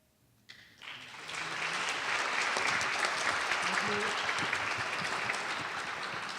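Audience applause for award winners at a college state-of-the-college address, starting after a quiet moment and swelling into steady, dense clapping from a large crowd that holds strong to the end.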